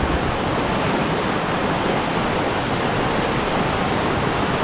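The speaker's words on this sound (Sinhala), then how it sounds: "වතුර ඉහිල්ලා යන්නේ" Water rushing steadily down a stream channel at a landslide site in Batumulla Ambagahagedara, a loud, continuous broadband roar close by with no voices.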